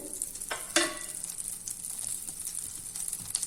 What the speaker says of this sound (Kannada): ಬಟರ್ ಕರಗ್ತಾ ಇದೆ, ಪನ್ನೀರ್ ಹಾಕ್ತೀನಿ ಅದ್ರೊಳಗಡೆ.